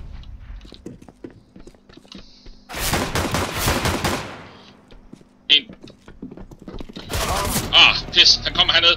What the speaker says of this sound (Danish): Ja, godt skudt, Hans.